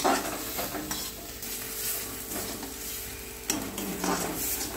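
A spoon stirs ginger through egg korma masala frying in a pan, giving a steady sizzle with scraping strokes against the metal and a sharper clank near the end, with no talking.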